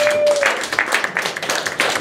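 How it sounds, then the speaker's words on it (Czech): A small audience at a literary café event in Ostrava claps in scattered, uneven bursts, with a voice talking over part of the applause. "Prosím potlesk"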